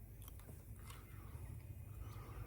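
Crunchy homegrown cucumber bitten and chewed close up, a few crisp crunches followed by quieter wet chewing, soft and intimate over faint outdoor background noise.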